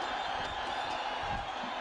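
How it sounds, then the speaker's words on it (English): A large cricket stadium crowd roars in a dense, continuous wash of cheering at a Nepal versus West Indies A match, loud and unbroken. "Listen to the crowd and you'll understand why."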